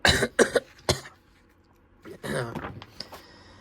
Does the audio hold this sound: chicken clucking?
no